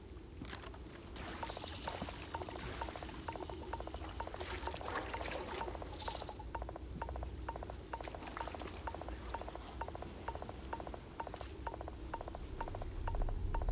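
Poisoned water pouring steadily in the video game Starfield, a continuous splashing trickle with a faint repeating mechanical ticking running beneath it throughout, with no talk.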